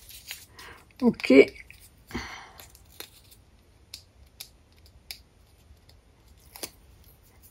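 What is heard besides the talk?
scissors cutting a piece of ribbon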